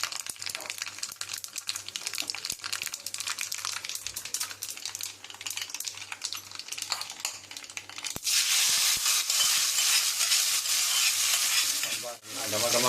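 Spices tempering in hot ghee for sambar rice, a steady crackling sizzle with light stirring that swells to a loud, dense fizz in the second half, with no voices.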